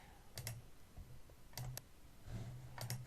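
Sharp mouse clicks come in quick pairs, three double-clicks spaced roughly a second apart, close and fairly quiet over a faint room hiss, with no one talking.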